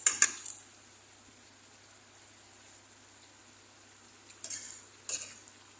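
A utensil scrapes and stirs sautéed watermelon rind in a pan in a few short, faint bursts at the start and end, with a soft sizzle and quiet in between.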